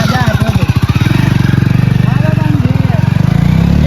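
A motorcycle engine runs steadily close by, its loud pulsing putter holding throughout, while people talk over it.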